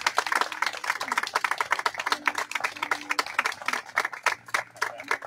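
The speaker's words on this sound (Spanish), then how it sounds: "Acompañamos con un fuerte aplauso y felicitamos a los nuevos adjudicatarios." Scattered applause for new recipients of a housing unit at a public home inauguration, uneven individual claps close by with a low hum underneath.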